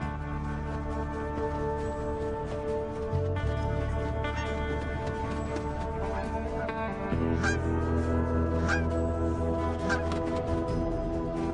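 A Canada goose honks repeatedly in the wild over a constant droning background, its calls loud and close.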